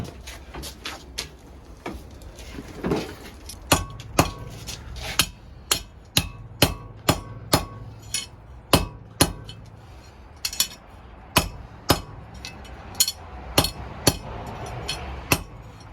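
Ringing metallic hammer blows land one after another in a steady, forceful rhythm, roughly twenty strikes of hot steel on an anvil, close by, while forging and straightening a fireplace poker.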